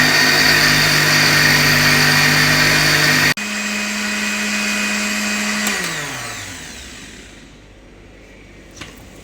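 A mixer grinder whirs loudly and steadily while blending mint lemonade ingredients, then cuts off abruptly, restarts, and winds down with a falling pitch before stopping.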